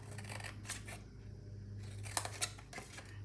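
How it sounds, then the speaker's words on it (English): Scissors snip through cardstock to cut a small rectangle from a handmade treat box, a few close crisp cuts over a steady low hum. "Cut off that little rectangle"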